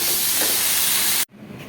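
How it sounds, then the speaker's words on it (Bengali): Pressure cooker whistling while chicken keema cooks, a loud sustained steam hiss that cuts off abruptly, leaving faint room noise. "এবার একটা সিটি দেবো তাহলেই হয়ে যাবে।"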